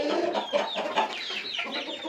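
Roosters and young cockerels in a farm coop clucking and squawking together, a busy, continuous chorus of overlapping calls close by, with no talking.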